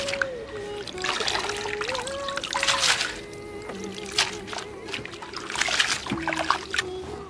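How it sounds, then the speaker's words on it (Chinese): Dried radish being washed by hand in a basin of water in a home kitchen, with continuous sloshing, trickling and small splashes, close and moderately loud. "现在把萝卜干上的土洗一下，把萝卜干多洗几遍。"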